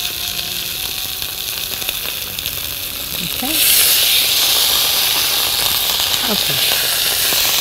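A turkey breast sears in a hot pan, the sizzle swelling into a loud, steady hiss partway through, with a short spoken word and small clinks from handling the pan.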